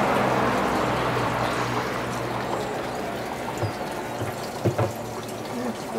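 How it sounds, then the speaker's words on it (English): Water is poured into a small hole in a tower garden, a continuous liquid pouring and filling sound with a few soft knocks near the end. "Considering the small hole that you were pouring it in, that would add more water now."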